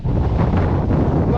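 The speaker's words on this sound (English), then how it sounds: "That is windy." Strong gusting wind roars across the microphone near a hilltop on Arthur's Seat in Edinburgh, a loud continuous buffeting rush with no break.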